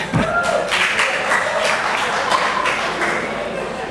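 A short burst of scattered clapping and applause from a group, filling the room briefly before fading.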